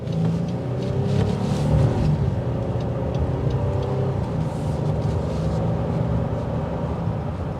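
A 2023 Honda Ridgeline pickup's engine hums steadily while picking up speed, with a continuous low road rumble underneath and no talking.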